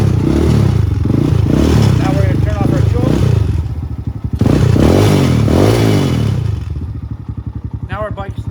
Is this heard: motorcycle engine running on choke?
yes